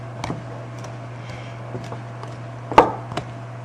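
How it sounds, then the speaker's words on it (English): A pastry blender chops cold butter into flour for Irish soda bread, with scattered soft thuds and clicks, one sharper strike standing out, over a low steady hum. "I'll use my pastry blender to cut it in"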